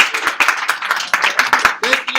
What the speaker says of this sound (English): They clapped for me